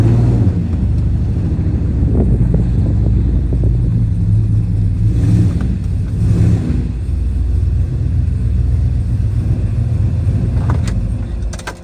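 A rebuilt car engine idles steadily after a couple of plug wires were changed, a loud continuous low rumble with a slight rise in revs partway through, and no voices.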